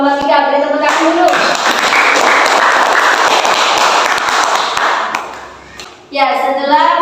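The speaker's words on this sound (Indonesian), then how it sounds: "beri tepuk tangan dulu" A classroom of students claps for a presenting group, a dense, loud burst of applause lasting about five seconds that fades out, with a teacher's voice speaking before and after it.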